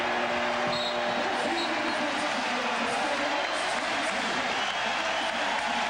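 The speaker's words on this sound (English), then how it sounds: "The New York Knicks hearing the applause from the crowd." A dense arena crowd applauds and roars continuously at a 1994 NBA playoff Game 7 between the Bulls and Knicks, loud and steady throughout.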